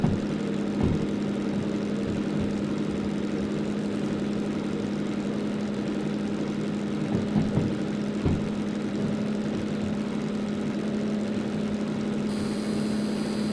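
A diesel locomotive engine in the train game Derail Valley runs at high revs, a loud, steady droning hum with a strong low tone that holds almost unchanged, broken only by a few faint clunks.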